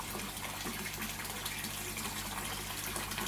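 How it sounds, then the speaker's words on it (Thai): Water flows steadily into a 200-litre koi holding tank from its return system, a constant faint gushing trickle with no talk. "เป็นถังขนาด 200 ลิตรนะครับ มีระบบ ดูดน้ำกลับนะครับ"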